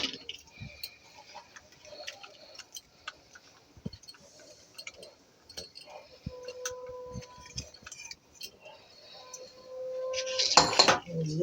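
Fish being mixed with garlic-chili paste in a bowl for an aloo mach paturi dish, scattered light clinks and scrapes of utensil against dish, with a louder clatter near the end.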